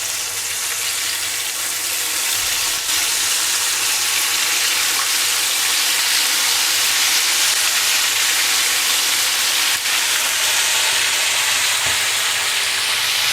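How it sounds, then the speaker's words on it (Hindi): Chicken drumsticks deep-fry in hot oil, a steady, dense sizzle and bubbling hiss running continuously at close range, with a couple of faint clinks of utensils. "इसे भी अब हम इसी तरह से फ्राई करते हैं"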